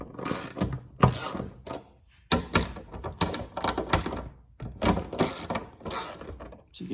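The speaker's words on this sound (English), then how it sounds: "So next I'm going to remove these bolts." A ratchet wrench loosening bolts on a car hood during insulation removal, loud close bursts of rapid clicking separated by short pauses, alone without speech.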